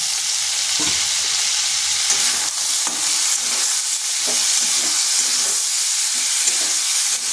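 A crushed paste of onion, ginger, garlic and green chilli fries in hot oil for an egg and pointed gourd curry, giving a continuous loud sizzle broken by repeated scraping stirs close by.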